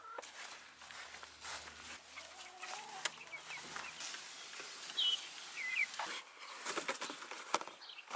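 A chicken clucks in a farm paddock, with intermittent short clucks over rustling and footsteps, fairly quiet and close by, and no talking.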